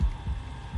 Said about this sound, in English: Oh, I forgot about the heartbeat room.